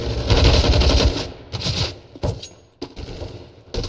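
Gunfire in the shooter game CS:GO: a loud sustained burst of rapid shots, then several shorter bursts and single cracks separated by brief gaps.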